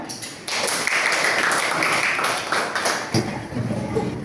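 Classroom applause from a class of junior high students at the close of a poetry lesson, a dense patter of many hands clapping steadily for about four seconds, fairly near, with no talk over it.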